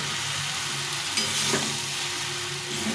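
Shol fish chachchari with tomato sautés in a pan, giving a loud, continuous sizzle with stirring scrapes and a brief louder burst midway; no talking.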